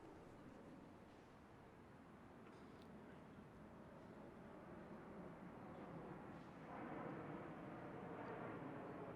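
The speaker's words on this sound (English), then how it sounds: "we are on the final flight path into Pearson Airport, so we occasionally get some airplane noise overhead" Airliner on final approach into Pearson Airport passing overhead, a broad steady roar that swells slightly louder toward the end, continuous and fairly distant with no talk.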